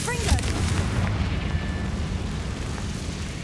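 A Confringo spell in Hogwarts Legacy lands as a heavy booming explosion with a sharp burst up front, then a rumbling decay that fills the short moment.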